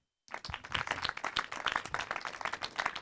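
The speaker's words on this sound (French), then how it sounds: "Monsieur Callaghan, sous vos applaudissements" Audience clapping to welcome Monsieur Callaghan at a humanities and social sciences seminar, starting abruptly after a short silence and continuing as a steady, moderately dense round of applause.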